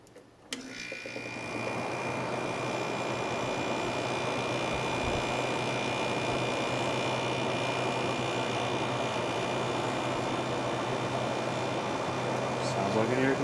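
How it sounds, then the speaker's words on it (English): A Fedders window air conditioner runs with its cover back on, giving a steady loud hum with a low tonal drone and a whining tone that hold evenly after starting up in the first two seconds. "Sounds like an air conditioner to me."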